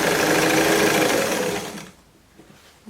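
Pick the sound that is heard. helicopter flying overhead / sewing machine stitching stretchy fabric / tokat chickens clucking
sewing machine stitching stretchy fabric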